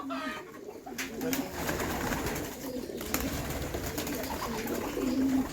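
Several pigeons coo in low, repeated throaty murmurs, close by and continuous, with faint rustling and background noise.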